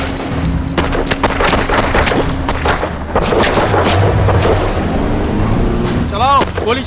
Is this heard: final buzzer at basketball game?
no